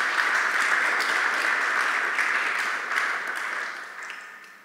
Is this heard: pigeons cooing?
no